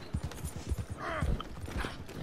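Horse hooves clip-clop in a rapid, uneven rhythm in Red Dead Redemption 2 Online, with a brief whinny rising mid-clip, fairly close and moderately loud.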